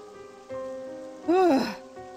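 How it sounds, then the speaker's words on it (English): Rain patters steadily in the visual novel The Murder at White Rose Academy, a soft, even wash that swells briefly while a melodic wailing tone rises and falls over it; no one speaks. "Ah, looks like it's raining,"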